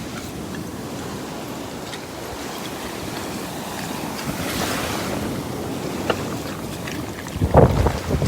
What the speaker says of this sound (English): the waves are getting a little bit bigger over here